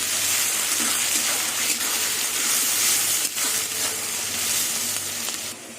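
Onion paste frying in hot oil together with already fried onions, a dish of jackfruit with prawns and whole garlic: a loud, dense, continuous sizzle close by with occasional stirring scrapes, fading slightly near the end.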